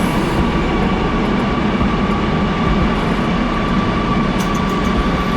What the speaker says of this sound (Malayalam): ട്രെയിൻ ട്രാക്ക് ചേഞ്ച് ചെയ്തിട്ട് ഇപ്പോൾ വന്നിരിക്കുകയാണ്.